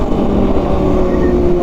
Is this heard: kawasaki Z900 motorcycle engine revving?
yes